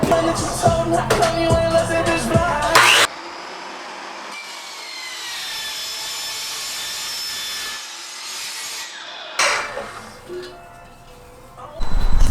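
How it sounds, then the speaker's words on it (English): A metal-cutting blade saws through an old exhaust downpipe on a 2JZ-swapped Nissan 350Z, a rasping whine lasting several seconds between louder clattering bursts at the start and end. "let's get to cutting this. Gotta get the metal blade on"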